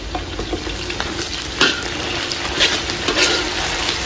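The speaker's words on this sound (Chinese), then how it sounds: "然后咱们给它炒香" Yingkou soybean paste and Pixian doubanjiang sizzle in a wok while being stir-fried, a close, steady frying crackle broken by a few scraping stirs and small splashes, with no talking.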